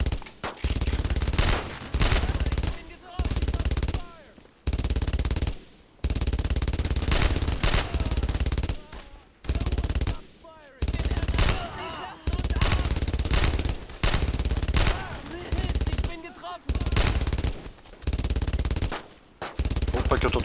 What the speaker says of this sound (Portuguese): Opa, que eu tô tomando tiro.